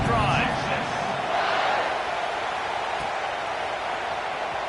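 A football stadium crowd roars in a steady, broad wash of cheering after a touchdown in an Alabama versus Texas college football video game, loudest at the start and sustained under a commentator talking.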